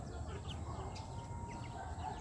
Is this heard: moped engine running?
no